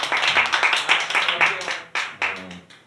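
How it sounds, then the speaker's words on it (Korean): Congregation clapping in thanks during a Sunday church service, a burst of quick close handclaps thinning out into a few scattered claps, with some voices underneath. "감사한다고 박수 있어요"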